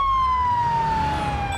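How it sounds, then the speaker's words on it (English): Police car siren from a police patrol simulator video game: a loud, steady electronic wail holding one pitch for over a second, with a low engine rumble underneath and no talk. "Turn the lights, siren. Oh, that's still pretty loud."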